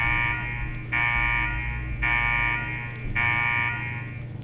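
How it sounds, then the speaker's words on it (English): An electronic alarm in Fallout 4 (Nuka-World) blares in a steady pulsing pattern, four long buzzing tones of roughly a second each, loud and close over a low hum, with no talk. "What the hell is that alarm?"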